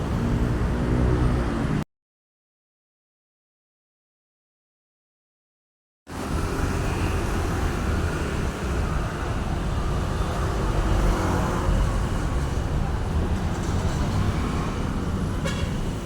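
Busy Jakarta street traffic near Istiqlal Mosque roars steadily with passing cars and buses, with horns tooting over the dense, loud roadway noise. A few seconds of total silence break up the sound.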